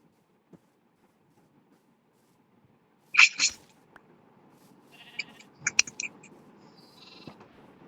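A Minecraft sheep lets out a sharp synthetic bleat during in-game breeding, followed by softer scattered game sounds and faint clicks in an otherwise quiet scene.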